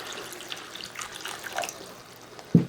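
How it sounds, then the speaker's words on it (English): Water poured into a pan of shrimp Veracruz sauce gives a soft, steady trickling splash throughout, ending in a brief louder splash near the close, with no talking. "we're going to add 4 ounces of water."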